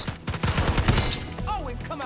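Rapid gunfire bursts from an online match of the video game Call of Duty Black Ops 6, dense overlapping shots and impacts with a voice talking over them and a few whistling tones near the end.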